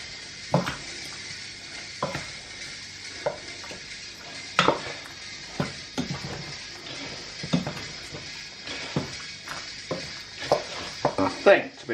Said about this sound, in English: I'm going to throw all the pasta in.